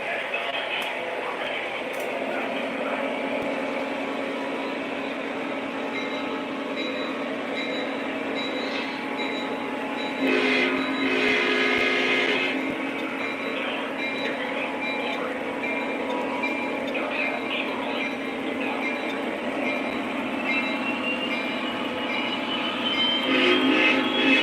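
A Lionel/MTH model SD70 Mac locomotive pulls a steel freight train around a layout, its motor humming and wheels rumbling steadily the whole time. A brief horn blast sounds midway.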